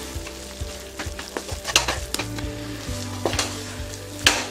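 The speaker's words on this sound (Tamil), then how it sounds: "லோ ஃப்ளேமில் வச்சே நம்ம கலரிட்டுருக்கலாம்" A thick melted sugar and coconut burfi mixture stirred in a pan over low flame, with soft sizzling and repeated spatula scrapes and taps on the pan.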